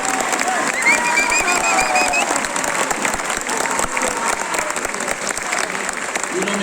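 Sustained applause from a crowd at an outdoor mayoral campaign rally in Quito, dense steady clapping with scattered cheers and whistles running loud throughout.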